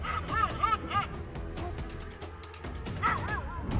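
A small dog barks loudly in short yipping bursts at lions in long grass in the Ngorongoro Conservation Area, northern Tanzania, with a cluster of barks early on and another burst near the end over an outdoor background.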